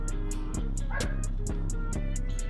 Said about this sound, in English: I hear my dog barking.